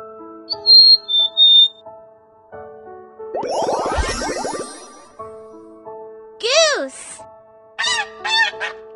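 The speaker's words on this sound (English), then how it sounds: "Goose." A goose honks loudly and close in several separate calls, set among short musical notes and other sound effects in a children's bird-learning program.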